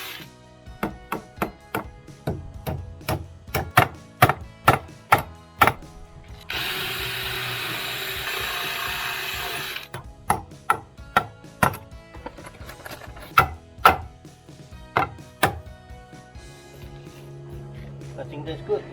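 Nails are hammered into stair rail brackets with sharp, evenly spaced blows, over a dozen strikes, interrupted midway by a few seconds of hissing noise, then more irregular knocks; close and fairly quiet.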